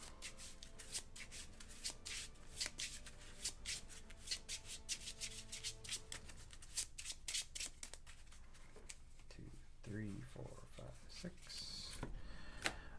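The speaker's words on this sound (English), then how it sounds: "Give these a shuffle." Marvel Legendary Guardians of the Galaxy playing cards are shuffled by hand in a dense run of soft, quick riffling and rubbing strokes, close but quiet, with a faint voice in the background.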